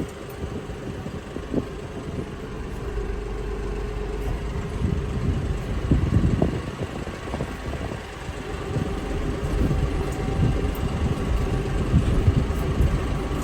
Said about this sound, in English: This is my first time to move dirt with this tractor.